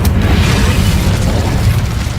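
Fiery Incendio spell cast in the Hogwarts Legacy video game, a sharp burst at the start followed by a sustained roaring, rumbling blast that fills the whole moment at close range.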